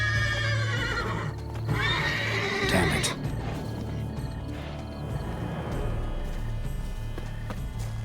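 A horse whinnies loudly near the start in the video game The Witcher 3: Wild Hunt, a long rising-and-falling neigh, then quieter snorts and rustling over a steady low hum.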